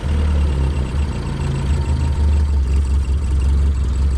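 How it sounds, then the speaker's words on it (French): A 1967 Toyota Corona RT40 engine runs just after starting, a low, steady, slightly uneven idle that rumbles close and loud throughout with no talking over it. "Dernier essai de démarrage. C'est beaucoup mieux."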